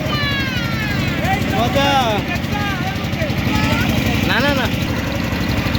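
A motor boat engine drones low and steady while cruising on Chalan Beel, with people chatting and exclaiming close by over the constant hum.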